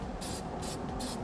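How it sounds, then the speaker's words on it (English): A spray paint can blasts onto the thick metal of a B and W fifth wheel trailer hitch in three short, loud hissing bursts separated by brief pauses, heard up close. "Now we'll use our spray paint again so we don't have to worry about any rust."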